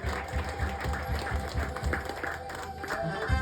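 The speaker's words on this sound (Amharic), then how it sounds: "አጨብጭቡለት ለጌታ ክብር።" A church congregation claps in praise of the Lord, an even rhythmic beat of many hands that continues steadily under a loud musical backdrop, with voices also present.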